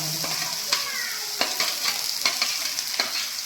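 Green chilies frying in oil in a pan, a steady close sizzle broken by sharp spoon scrapes and taps against the metal roughly every half second.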